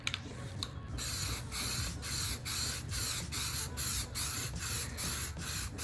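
Rust-Oleum glow-in-the-dark spray paint hisses from the can in a steady series of close, loud bursts, roughly two per second, as a second coat goes onto a painted canvas.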